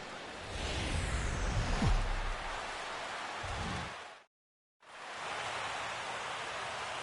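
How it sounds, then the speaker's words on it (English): Steady rain pours down on AT&T Park in San Francisco's China Basin, a baseball stadium in the video game MLB 16, a dense even hiss throughout with a brief full silence near the end before it resumes. "Rain coming down here in San Francisco's China Basin as we're at AT&T Park."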